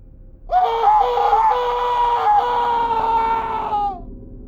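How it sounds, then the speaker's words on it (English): A loud, sustained scream cuts in abruptly and holds for about three seconds with a wavering pitch before trailing off, used as a sound effect in a spooky Halloween story with no talk over it. "When I got to the landing, I heard a loud scream."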